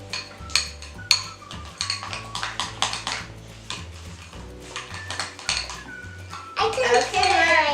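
Slime being stirred in a bowl, heard as repeated clinks and scrapes of a utensil against the dish in an irregular rhythm, with a voice talking now and then.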